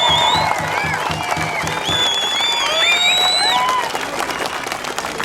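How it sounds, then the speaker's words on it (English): A crowd at a summer games event claps and cheers loudly, with whoops and high shouts rising over dense applause; a rhythmic thumping sounds early on, and the cheering continues throughout. "Let's give this guy a round of applause."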